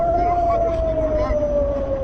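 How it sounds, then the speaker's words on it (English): Air raid sirens at Tel Aviv airport during rocket fire: a steady wailing siren holds a single tone that slowly falls in pitch, loud and continuous over a noisy rumble. "The sirens have gone off, people are taking cover"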